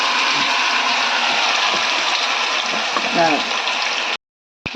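Chicken 65 frying in oil over a low flame, a continuous sizzling hiss that cuts off abruptly near the end, with talk over it.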